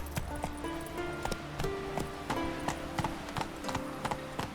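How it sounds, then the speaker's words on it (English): In The Witcher 3, a horse's hooves clip-clop in a steady, brisk walking rhythm on a hard surface, with the game's music playing beneath. "Whoa there, Roach."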